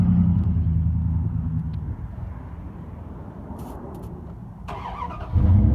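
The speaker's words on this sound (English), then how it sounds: "You want me to rev my truck?" Dodge Ram truck with Flowmaster exhaust, a deep rumbling idle close by that dips, then swells into a heavy low rev at the end.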